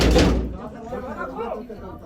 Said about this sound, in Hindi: देखो इधर से भी दरवाजा बजा रहे हैं, इधर से भी बजा रहे हैं।